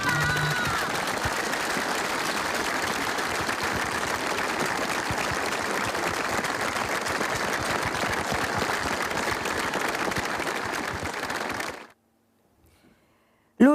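Sustained applause from mourners at an outdoor funeral procession toward a cemetery, a dense even wash of clapping that carries for about twelve seconds and then stops abruptly into near silence.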